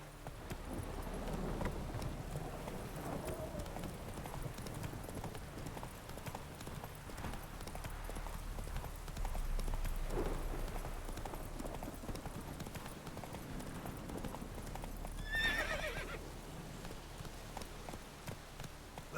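Horse Roach galloping in a video game, with steady, quick hoofbeats driving on continuously under low background music and a faint voice now and then.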